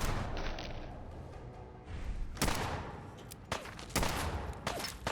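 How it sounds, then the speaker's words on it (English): Rapid gunfire in the Fallout 4 video game as an enemy is shot, with several sharp bursts and shots cracking over a dense, continuous rumble of game sound effects. "I love how you say that as I'm shooting this guy."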